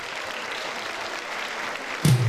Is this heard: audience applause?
yes